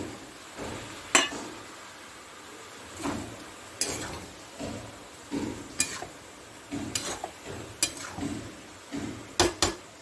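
A metal pot lid is lifted, set down and shifted while gourd khichuri cooks, giving scattered close clanks and clinks. Stirring scrapes come between them at an irregular pace in a quiet kitchen.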